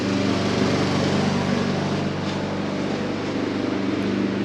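A neighbor's lawn mower runs continuously nearby, a steady droning engine hum with no breaks and no talking.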